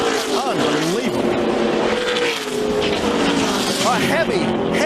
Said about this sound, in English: A heavy crash in the final corner of the race